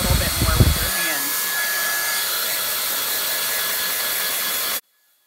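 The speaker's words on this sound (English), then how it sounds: "while I'm blow drying, I'm keeping the nozzle pointed down the hair the whole time" A hair dryer blows steadily at close range while hand-tied hair extensions are being dried, a continuous broadband whoosh with a faint whine that runs about four seconds after a brief rustle, then cuts off abruptly.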